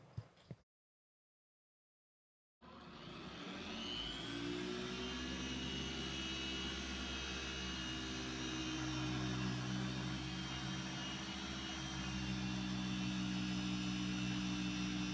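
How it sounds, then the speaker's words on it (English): A 21 mm long-throw polisher with a Lake Country microfiber pad working a car door under firm pressure, a loud steady motor drone and whir that starts abruptly after a short silence and holds constant. "We're going to use the long throw polisher, 21 millimeter, and Lake Country Microfiber Pad"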